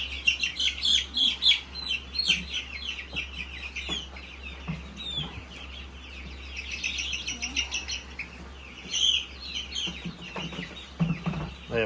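Young meat-bird chicks chirp and peep in a busy, continuous chorus, with louder bursts of high calls standing out as they are shifted into a brooder.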